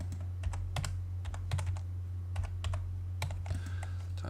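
Keys clatter on a computer keyboard as a command is typed into AutoCAD, a run of quick, close taps in irregular bursts over a steady low hum.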